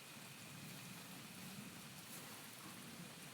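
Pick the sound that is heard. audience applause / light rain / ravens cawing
light rain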